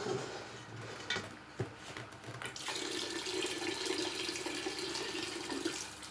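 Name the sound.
pouring alcohol for homemade elderflower wine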